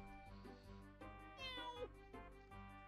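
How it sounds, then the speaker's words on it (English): A cartoonish cat meow sounds in the Toontown Rewritten video game, layered over bright, bouncy game music with repeating chime-like notes, fairly quiet overall. "Did you just meow at him?"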